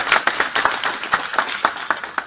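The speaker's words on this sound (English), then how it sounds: "Can I have a bigger round of applause from Dilip?" Hand claps from a small audience at the Garshom International Awards ceremony in Oslo, Norway: a brief, fairly loud patter of distinct, uneven claps without cheering.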